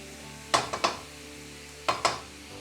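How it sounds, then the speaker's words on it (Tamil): Beetroot stir-fry frying in a pan: a low background sizzle broken by a few sharp scraping stirs of a spoon against the pan, two clusters of quick strokes. "அதுக்காக நல்லா பொரிஞ்சு வரட்டும்."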